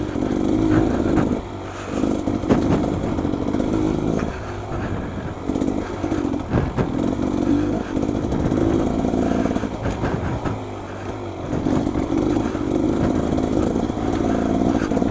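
A Beta motorcycle engine running steadily while ridden, a loud continuous rasping drone with rhythmic dips and rises as the throttle changes, close and alone without talking.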